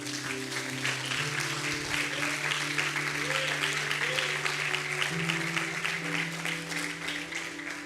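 Applause from a church congregation honoring the Holy Spirit, a sustained, fairly soft wash of many hands clapping over a steady low hum, with some tonal music or voices faintly mixed in throughout.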